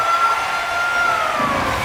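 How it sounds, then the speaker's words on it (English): An end-of-period buzzer in the NHL 26 hockey video game holds one steady, loud electronic tone over a busy arena wash for most of the stretch. "There's the buzzer."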